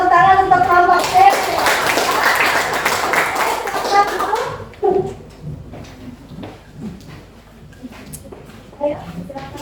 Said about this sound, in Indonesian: kita tepuk tangan untuk kelompok C